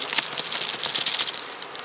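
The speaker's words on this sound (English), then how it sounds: "the bees are working in the top really well" Honeybees busy inside the top of a beehive make a steady, close buzzing hum with soft crackling patter throughout, no voices.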